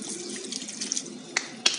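Water runs steadily from a tap while hair is wetted at a salon wash basin, a continuous close hiss with a couple of small sharp clicks, and no talking.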